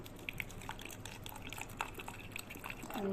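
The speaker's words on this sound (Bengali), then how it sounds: "আর একটু জল দেবো" Water poured into a paste of garlic and ground raw peanuts while cooking, making faint, scattered drips and small liquid splashes that run quietly throughout with no talking.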